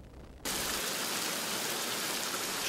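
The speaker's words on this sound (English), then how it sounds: "Sheets of rain blanketed neighborhoods and made driving a splashy, slippery enterprise." Heavy rain from a rare morning storm comes on abruptly as a dense, steady roar of broadband noise, loud and continuous with no voices.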